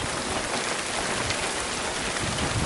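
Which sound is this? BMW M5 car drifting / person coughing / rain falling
rain falling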